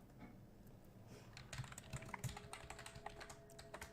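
Rapid, irregular clacking of keys on a computer keyboard as Python code is typed, close and fairly quiet, a steady stream of keystrokes with no talking.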